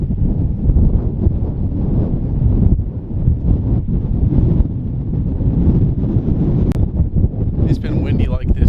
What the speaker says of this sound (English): It's been windy like this all day.